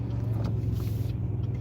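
A car pulls forward from a full stop during a driving lesson in morning traffic, its steady low engine rumble running close and continuous throughout.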